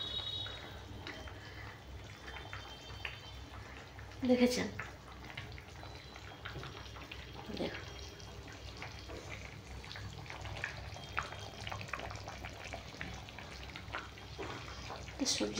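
A pot of Bengali jhol curry bubbles on the stove, a soft continuous simmer with faint gurgles and drips under a woman's speech, with a brief clatter partway through.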